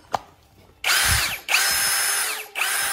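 A compact DeWalt impact driver rated at 55 N·m runs in three bursts, each a loud buzzing whir that cuts off sharply, with a small tap just before the first.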